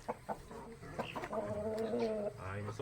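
Clucking from a small breeding group of three Dekalb Brown hens and a Rhode Island Red rooster, several short calls close by with a faint voice in the background.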